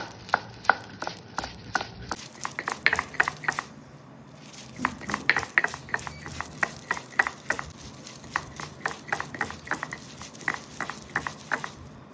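Fried shrimp and shrimp heads being ground into a paste, heard as a steady run of rhythmic knocks and squishy strokes, close and distinct, with a brief lull early on before the pace resumes.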